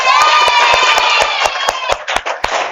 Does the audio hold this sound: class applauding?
yes